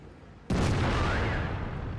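A single loud KV-2 tank cannon shot in World of Tanks bursts out suddenly after a quiet start, a sharp broadband blast followed by a long, rumbling decay that fills the rest of the moment.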